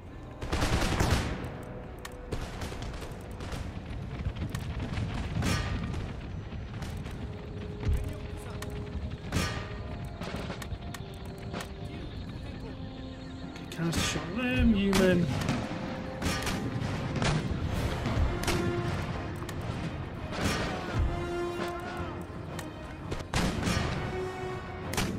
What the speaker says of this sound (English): Canister shot the camel gunners just to keep them away.